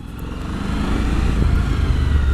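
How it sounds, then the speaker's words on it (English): A Suzuki V-Strom 1000 motorcycle engine rumbling heavily, a deep steady drone that slowly grows louder, as if decelerating under engine braking nearby. "Whoa, that's a lot of engine braking."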